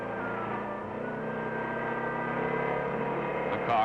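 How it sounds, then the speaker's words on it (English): A Porsche 356 runs under load on a road-test machine, its engine droning with rising tonal whine as it works through the gears, steady and moderately loud, ending with a brief louder burst. "The car is driven under load through the gears and performance noted and checked."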